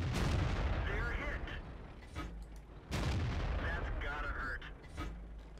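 Tank cannon shots and battle booms in the video game World of Tanks, two loud heavy blasts a few seconds apart with rumbling decay between them.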